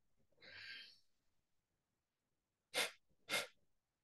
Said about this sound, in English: Kapalbhati, two exhales.